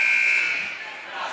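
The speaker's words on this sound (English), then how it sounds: "buzzer went off too late" Scoreboard buzzer at a boys varsity high school basketball game, one loud sustained electronic tone that fades over about a second amid the gym crowd.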